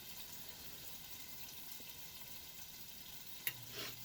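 Soft, steady sizzling of a hamburger patty frying in a pan, fairly faint and continuous, with a brief clink near the end.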